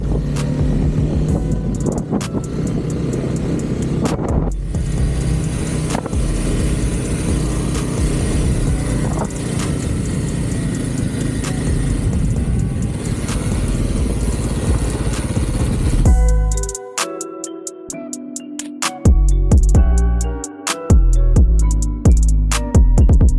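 Kawasaki KLX 300 dirt bike ridden across open desert, its engine droning steadily and loudly up close, then breaking into choppy bursts of revving with brief gaps toward the end.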